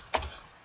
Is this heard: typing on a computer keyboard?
yes